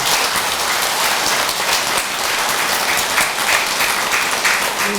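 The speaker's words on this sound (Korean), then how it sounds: "박수 한번 부탁드립니다." A temple congregation claps in dense, steady applause during a Buddhist Avatamsaka dharma service, loud and sustained throughout with no talk over it.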